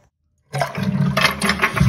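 A toilet with a weak flush starts abruptly after a half-second of silence, a close, steady rush and gurgle of water that continues to the end.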